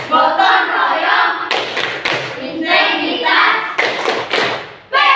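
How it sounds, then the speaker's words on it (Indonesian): Rhythmic bursts of classroom clapping in an Indonesian school as a teacher leads a patterned cheer, sharp claps grouped in quick clusters between chanted words from the group. "Ibu akan memberikan tepuk semangat, tepuk PPK"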